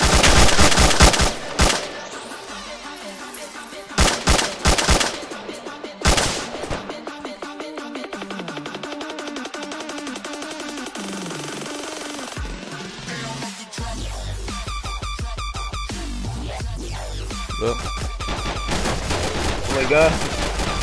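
Bursts of machine gun fire in the Arma 2 combat game, loud rattling volleys early on, then irregular shots and clatter mixed with game sounds and a voice talking over parts of it.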